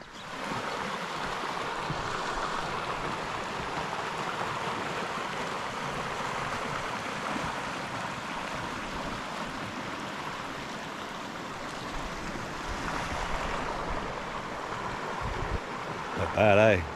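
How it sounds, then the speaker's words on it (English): The Broadbridge River, a rainforest creek beside a campsite, flows in a steady, moderately loud rush of water that runs continuously, with a voice talking over it. "down here is the creek, which is actually the Broadbridge River."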